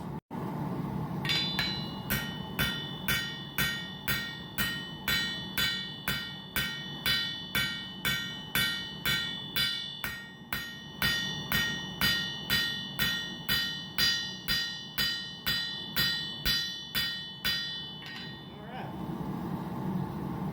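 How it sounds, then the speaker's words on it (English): A rounding hammer strikes titanium in a fast, even rhythm while forging a knife, dozens of ringing blows in a row, loud and close with a faint background hum. "rounding hammer does its job, and it moves the material outwards where you need it to"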